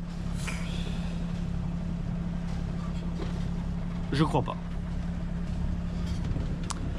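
A boat's tractor-type diesel engine idles at very low revs mid-Atlantic, a steady low throb running throughout, with a brief voice and a few small knocks over it.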